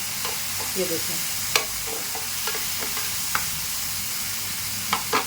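Masala with tomatoes sizzles steadily in a pan while a spoon stirs it in scattered scrapes and clicks, close up, with a brief spoken phrase near the start.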